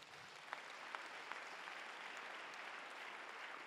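Church congregation applauding during a French-language sermon, a steady dense wash of clapping with a few sharper individual claps standing out near the start, fairly soft and continuous throughout.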